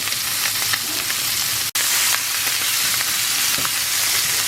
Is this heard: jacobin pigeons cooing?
no